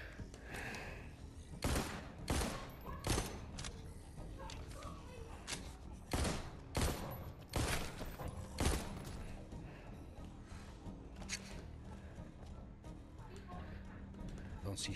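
Gunfire in the zombie video game The Walking Dead Onslaught: several sharp, separate shots ring out in a loose cluster, then a few more after a pause, with talking in the background.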